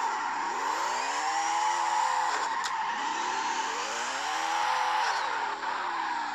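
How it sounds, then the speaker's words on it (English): Drifting car in CarX Drift Racing fitted with sport tires, its tires squealing loudly and continuously under a steady engine roar, with the pitch sweeping up and down through each slide. "I just tried drifting."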